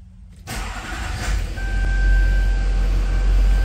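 A car engine cranks and catches, settling into a steady idle that builds and holds loud and close for several seconds, with no talking.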